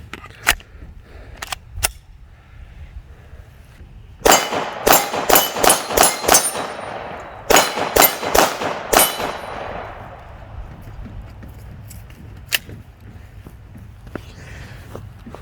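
Sharp pistol shots from a 43X MOS handgun at a shooting range crack out in two quick strings of about six, with a few isolated single shots before and after, loud and close without talk.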